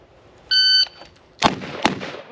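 A shot timer gives a single electronic beep, followed by two sharp gunshots in quick succession at a Spaghetti Western fast draw competition, loud and close with brief echoes.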